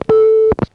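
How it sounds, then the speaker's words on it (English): Call-waiting beep on a 1982–83 1A ESS Centrex telephone line: a single steady electronic tone lasting under half a second, loud and clean, between brief clicks. "So when a call waiting beep came in, you would flash and get a recall dial tone."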